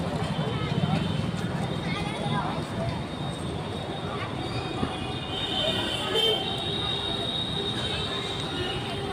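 A metro train at an elevated station above a busy market, with a continuous rumble and faint wheel squeal filling the scene, close and steady, while people talk over it.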